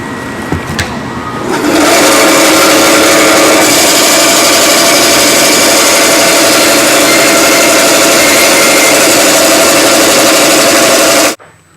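A band saw cuts a wooden push stick out of a board, running as one loud, steady, whining drone for about ten seconds before stopping abruptly. No one talks.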